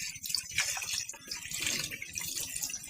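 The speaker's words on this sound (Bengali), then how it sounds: "ফার্স্টে আমি মাছগুলাকে ধুয়ে নিচ্ছি, সুন্দর করে ধুয়ে নিচ্ছি" Water splashes and runs steadily as puti fish are rinsed in plain water, a continuous close sloshing with brief gushes throughout.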